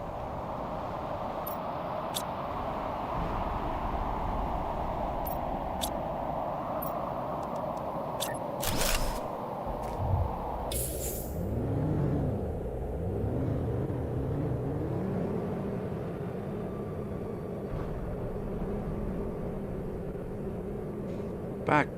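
A steady, low rumbling roar from an osmium storm on the world of Selenea in the survival game Planet Crafter, a broad windy wash that shifts partway through into softer, wavering low tones.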